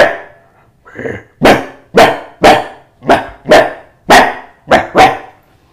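A human voice mimicking a rowdy dog barking, about nine loud, close barks in an uneven rhythm after a soft growling start, with no other sounds.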